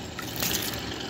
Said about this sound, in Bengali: এই দেখুন এবার পর্যাপ্ত পরিমাণে আজকে জল দিয়ে দেব।